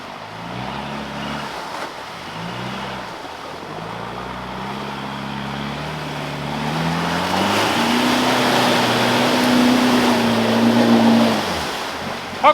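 An off-road truck without a snorkel pushes through a deep mud hole, its engine note cutting in and out at first, then climbing to a strained, sustained rev over churning, splashing water and mud before dropping off.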